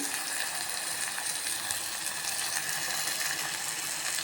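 Tomato and meal maker curry sizzling in a pan, a dense, steady hiss of frying that continues evenly throughout with no talking.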